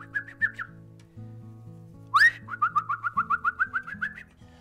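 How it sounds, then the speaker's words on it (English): Little birds twittering and cooing in a lively run of short whistled calls, a quick rising chirp, then a rapid series of repeated notes, heard clearly over a soft low musical backing. "then what they also saw were lots and lots of little birds"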